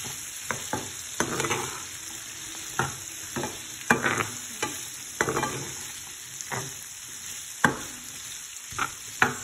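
Chana cooking with green chilies in a pan, with soft steady sizzling and frying under repeated stirring clicks and scrapes of a spoon against the pan, fairly close.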